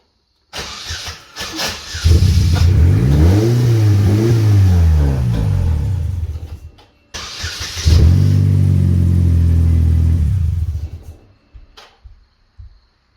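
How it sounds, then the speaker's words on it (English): A stripped-down Buick Skylark's engine, with sensors disconnected, revs hard twice, each burst climbing and holding loud for several seconds before dropping back to a rough idle. "Try revving it up here a little bit."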